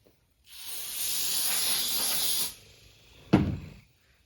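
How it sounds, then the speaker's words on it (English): Brake cleaner sprays in a steady two-second hiss onto a Husqvarna 288xp chainsaw sprocket, stopping abruptly, followed moments later by a single short knock. "You take your sprocket, which we need to brake clean the oil out of this"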